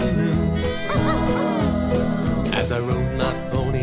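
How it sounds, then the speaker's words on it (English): A cartoonish coyote howl sound effect wavers in a children's song, mixed with dog-like yips over busy, loud backing music throughout. "And one little coyote howling at the moon."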